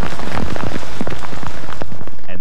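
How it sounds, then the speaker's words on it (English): Steady rain pattering densely on surfaces, loud and close with scattered heavier drops, continuous throughout with no voices. "And then a steady rain."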